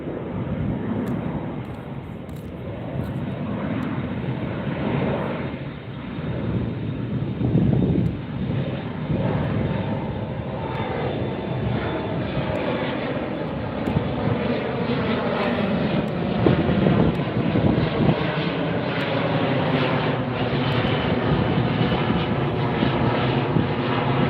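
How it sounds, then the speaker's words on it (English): A Korean Air Boeing 747 departs LAX near the beach, a loud, sustained jet-engine roar filling the whole stretch with some wind buffeting the microphone. "Korean Air is going to be heading out tonight. That's the 747."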